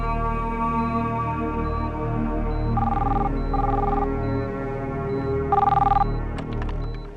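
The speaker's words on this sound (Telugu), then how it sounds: "మీకు ఫోన్." A telephone rings in a hospital setting, a repeated electronic ring heard in short bursts over steady background music, fairly loud in the mix.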